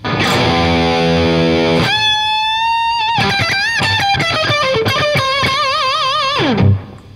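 A heavily distorted electric guitar plays sustained notes and bends with wobbling vibrato, loud and close, ending in a quick slide down.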